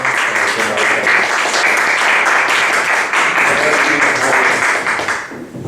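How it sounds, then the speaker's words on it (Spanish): An audience at a lecture on oral commercial trials applauds loudly and steadily for several seconds, the clapping fading out at the end. "por favor, recibamos con un fuerte aplauso"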